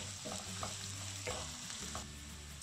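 Ingredients for a Kerala-style fish curry sauté in a hot pan, giving a steady close sizzle with a few soft stirring scrapes and clinks throughout.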